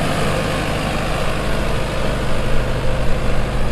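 Sonalika tractor engine, a South-market 60 model, idling at a slow, steady rumble up close, a continuous low throbbing chug with no voices over it.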